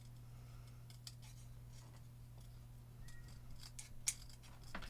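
Scissors trim craft scraps in a quiet room, giving a few faint, brief snips over a steady low hum.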